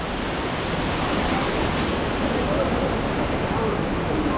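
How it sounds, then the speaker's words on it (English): A waterfall near Imlil in Morocco's Atlas Mountains roars as a steady, dense wash of falling water, close and unbroken throughout, with faint voices beneath it. "this is what we've come to, a waterfall"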